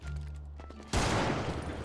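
Sudden burst of gunfire in GTA V, a loud dense crackle of shots cutting abruptly into a low ambient drone and continuing to the end.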